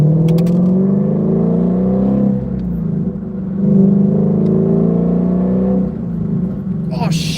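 A Shelby GT350's engine drones loudly from inside the car, its pitch sagging and rising again as the revs shift during a mid-gear-change clutch slip, ending with a brief sharp scrape; nobody talks.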